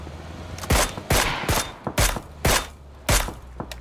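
Gunfire from the video game PUBG: about seven loud, close shots in a fairly even rhythm, each a sharp crack with a short decay over a low background hum.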